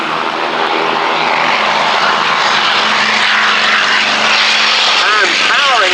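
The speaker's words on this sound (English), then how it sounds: "on its takeoff roll, that little naval fighter, the Grumman FM2 Wildcat." A Grumman FM2 Wildcat naval fighter roars loud and close on its takeoff roll at an air show, the piston engine and propeller a dense continuous drone, with a commentator speaking over it.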